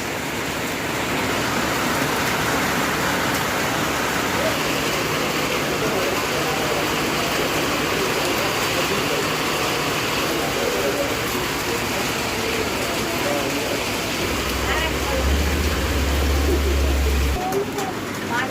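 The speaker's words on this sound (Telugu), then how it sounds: "కొన్ని సంవత్సరాల తర్వాత మా ఊళ్ళో వర్షం పడుతుంది" Rain falls steadily in a village, a continuous even patter and hiss that holds across the whole stretch, with a low rumble near the end.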